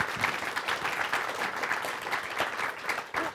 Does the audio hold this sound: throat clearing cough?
no